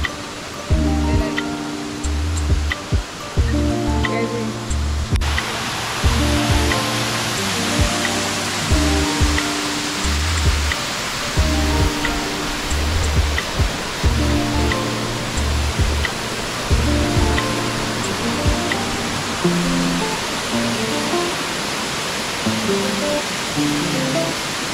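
Huambuguiro waterfall at Yamango in the Piura highlands, a loud continuous roaring rush of falling water with bursts of rhythmic music over it.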